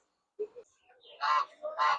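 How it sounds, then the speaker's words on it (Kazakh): Geese honk loudly in two strong bursts after a few softer calls at a domestic animal market in Kyzylorda, fairly close, with no talking. "міне әдемі қаз үйректер сатылып жатыр екен"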